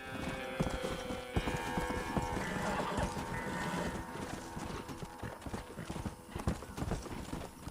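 Steady clip-clop of hooves at a quick gallop rhythm from a horse in the video game Red Dead Redemption, continuous and fairly busy, with a light background wash behind it.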